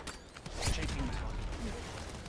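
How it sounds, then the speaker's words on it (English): A magazine being changed on a gun in a shooter game, with short mechanical clicks and a metallic creak over about two seconds, moderately quiet beneath background game noise and radio chatter. "Changing mag."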